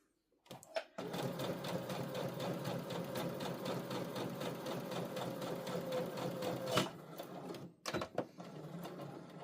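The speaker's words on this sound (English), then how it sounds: "the brim piece is much easier to sew." A Brother CS7000X sewing machine runs a fast, even stitch along a bucket hat brim for about six seconds, close and clear, then stops, followed by a few handling clicks.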